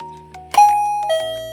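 A home doorbell chime, plugged in before use, rings out in two clear, ringing tones about half a second apart, each held and slowly fading, with no one talking.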